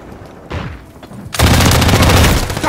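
Call of Duty gunfire erupts as a sustained, loud burst of rapid automatic shots close by, following a brief earlier shot and quieter background noise.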